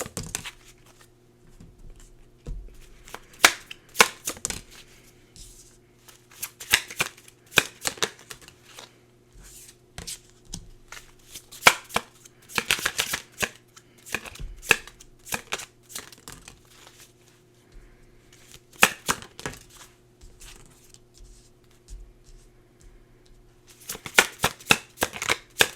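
Tarot cards are shuffled by hand up close, repeated crisp riffling and slapping bursts in irregular clusters with quiet gaps between, no talking.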